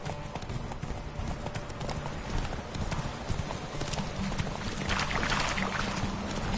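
Roach, the horse in the video game The Witcher 3: Wild Hunt, gallops with a rapid, continuous hoof rhythm, close and steady, over a rushing background and occasional game sounds.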